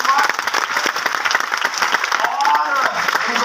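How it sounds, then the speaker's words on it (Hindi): A seminar audience at a leadership development program claps loudly and continuously, crowd applause mixed with a few shouts and voices from the room. "तो इन बाकी सारी के लिए एक बार जोरदार तालियां।"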